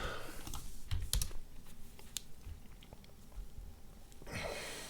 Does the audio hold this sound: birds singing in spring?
no